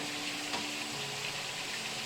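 Lemons and a heap of garlic sizzle and fry in a hot pan, a steady, dense crackle that stays even and fairly close throughout.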